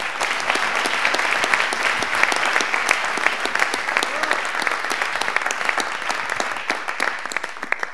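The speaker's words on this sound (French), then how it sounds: "On peut applaudir." A French audience at an evening eloquence event breaks into sustained, dense applause, an even wash of many hands clapping close by with no voices on top.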